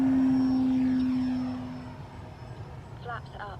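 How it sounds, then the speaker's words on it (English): An E-flite AT-6 Texan RC model airplane takes off with takeoff flaps, its electric motor giving a steady whine that fades as the plane moves away, with faint talk near the end. "Taking off with takeoff flaps."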